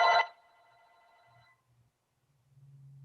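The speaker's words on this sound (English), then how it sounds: "maybe that's his phone." A telephone rings once with a short, bright electronic burst during a video meeting, then fades into near silence with a faint low hum.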